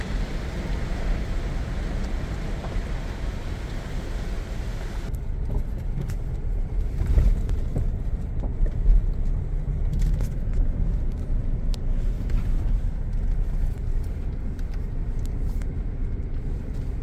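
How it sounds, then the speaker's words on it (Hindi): A car travels a mountain road in the Kalash Valley with a steady low engine rumble and road noise inside the cabin. The drone stays constant, with brief bumps and knocks, and no one speaks. "ऐसे गाड़ी वापस जानी पड़ती है।"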